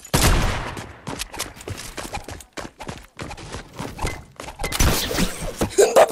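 Assault rifle gunfire in a video game rings out in rapid, uneven bursts of sharp cracks and thuds, loud and close, with busy game noise between volleys.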